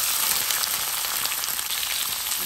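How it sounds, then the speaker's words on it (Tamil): Onions, curry leaves and green chillies fry in hot oil for a mutton gravy, producing a constant, even hiss of sizzling without any talk. "இது நல்லா வதங்கட்டும்"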